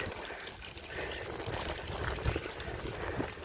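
Water from Sagpat Falls in Maloma, San Felipe, Zambales rushes and gurgles in a steady, broadband wash at moderate distance.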